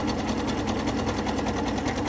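Sewing machine stitching an elastic waistband onto a jumpsuit, a steady, continuous mechanical whir with a fast pulsing rhythm, close and loud throughout with no talking.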